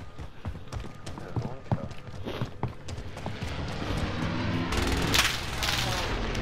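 Gunfire in Call of Duty: Modern Warfare aimed at the player: scattered sharp shots build into denser, heavier bursts toward the end, loud and close, with faint game noise beneath.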